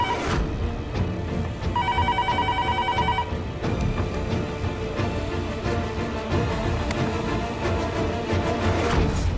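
A telephone rings in a busy indoor scene, a brief electronic trill of repeated tones over dense background music and noise, fairly loud but partly masked.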